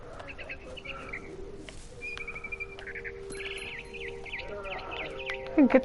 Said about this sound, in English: I can get this bird.